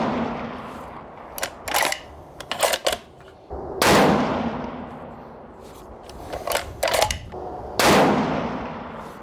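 Shots from a 6.5 Creedmoor Ruger Precision Rifle with an aftermarket Krieger barrel firing 140 grain hollow points at an outdoor range, two loud sharp reports with long echoing decays, separated by faint clicks of the bolt being cycled.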